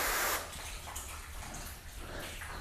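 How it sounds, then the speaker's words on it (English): Rinse water sprays onto a car body coated with spray sealant, a brief loud hiss of spray at the start that drops to a steadier, softer watery wash with no talking. "So look at the way the water's hitting."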